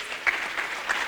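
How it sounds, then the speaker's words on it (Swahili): A short burst of applause at a panel event on enforced disappearances, a small audience clapping briefly and fairly close. "Lakini kwanza si tupigie Javan makofi"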